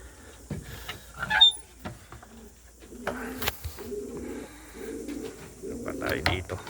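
Racing pigeons cooing in a loft, several soft low coos in rhythmic phrases with a brief higher chirp, close and moderately quiet, with a little background noise.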